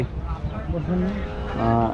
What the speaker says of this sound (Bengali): এখানে আমরা একটা গরু দেখতে পাচ্ছি